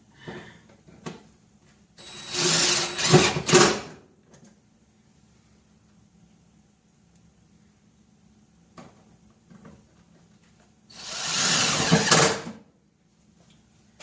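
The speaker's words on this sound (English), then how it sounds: "Just using some Phillips head Tech screws. There's 4 holes, so we'll stick 4 screws in it." Phillips head tech screws are driven into four holes on a shop truck, producing two bursts of power-driver whirring and grinding of a second or two each, separated by a long quiet stretch with small clicks.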